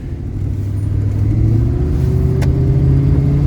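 A 20-year-old Chevrolet Silverado pickup pulls away, its engine rumbling loud and close and rising steadily in pitch as the truck accelerates, with no talking.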